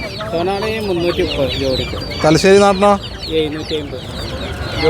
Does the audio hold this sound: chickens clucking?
yes